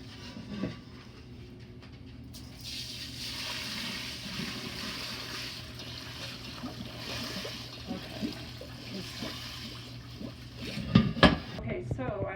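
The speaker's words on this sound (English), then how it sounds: "Now I'm going to drain the whey" Whey pours and trickles from a pot of fresh homemade cheese curds, a steady watery splash running for several seconds with a few clinks of a pan near the end.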